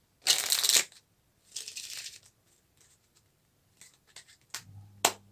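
Playing cards dropping one by one off the hand in a cardistry move, two longer papery riffling bursts, then scattered light ticks and a final sharp card snap, close and quiet with no talk.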